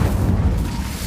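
In Hogwarts Legacy, an Incendio fire spell goes off as a short, heavy whoosh with a deep booming rumble that fills about a second, loud and close.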